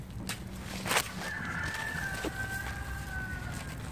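A rooster crows once in a long, drawn-out call over a quiet vegetable garden background, with a few faint clucks and small noises nearby.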